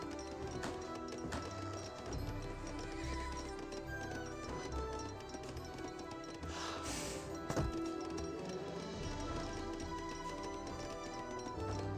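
Horse-drawn heavy cannons moving in the Age of Empires 3 strategy game, with a steady clip-clop of hooves under a dense bed of in-game battle noise, music and scattered impacts, fairly quiet and continuous.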